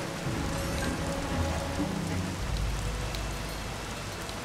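Rain falls steadily in The Bee Movie Game, a dense continuous hiss of drops with a low rumble underneath, constant throughout and with no voices.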